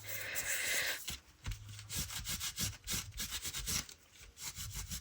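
Paper edges of a mixed media junk journal cover being rubbed down by hand, giving a run of short, close scratchy strokes in an uneven rhythm after a brief steadier rub at the start.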